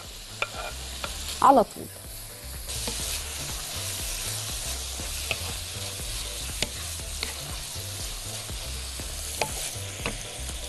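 Onion and meat fry together in a pan and are stirred, a continuous close sizzle broken by scraping and clinking of the spoon, with a brief spoken phrase near the start.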